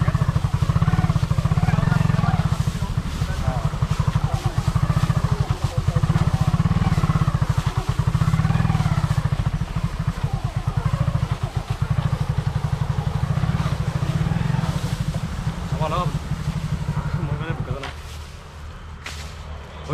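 A motorcycle is ridden through Dhemaji, its engine droning loud and close with a steady low throb that rises and dips, fading somewhat near the end while talk runs intermittently.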